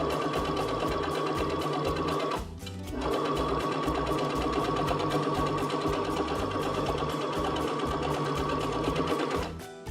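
Baby Lock Jubilant sewing machine stitching custom piping, a loud, steady rapid whir of needle strokes that pauses briefly and then resumes at full speed.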